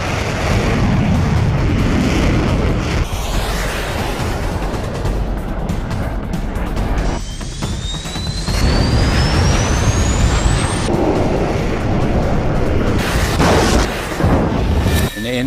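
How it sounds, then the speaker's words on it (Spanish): Loud booming blasts and a heavy roar fill the scene as a Sidewinder missile hits an A-4Q jet in 1982 Falklands air combat, with a rising whistle cutting through before another powerful burst. "En ese momento escucho una explosión muy fuerte."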